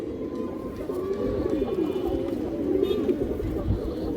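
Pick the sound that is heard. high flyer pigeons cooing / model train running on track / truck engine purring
high flyer pigeons cooing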